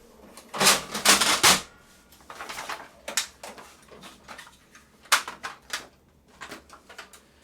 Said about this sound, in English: In the meantime, let's put some paper in.